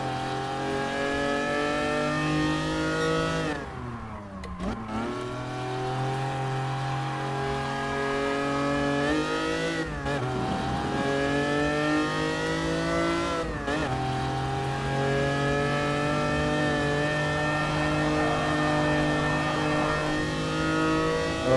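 Lancia Stratos race car in GT Sport, its engine revving steadily through rising gears with three sharp drops at shifts or braking, loud and continuous with no talk.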